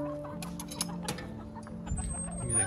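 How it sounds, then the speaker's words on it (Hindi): Chickens clucking in a farm animal corner, short soft clucks and calls close by over a low steady hum of outdoor background. "ये देखिए खूबसूरत मुर्गियाँ पाली हुई हैं।"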